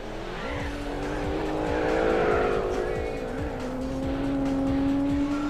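Race car in Gran Turismo 4 drifting at Laguna Seca, the engine holding a steady high whine while tires squeal continuously through the slide, loud and close for several seconds.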